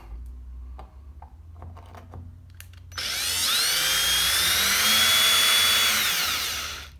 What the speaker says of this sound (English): the drill died